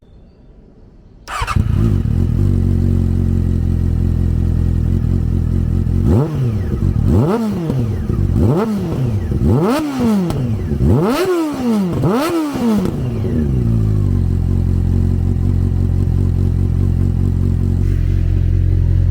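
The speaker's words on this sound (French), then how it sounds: "je vais pouvoir vous démarrer la bête et vous faire écouter cette douce mélodie" A Triumph Speed Four 600 motorcycle cranks and fires up, settles into a steady idle, then revs sharply several times in quick succession before dropping back to a loud, even idle, close by with no talking.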